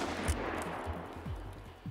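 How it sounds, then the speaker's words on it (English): A single sniper rifle shot in the shooter game Escape from Tarkov, a sharp crack near the start followed by rolling echo and low rumble from a hillside setting, with faint gunfire-like thumps trailing after. "I took a single shot"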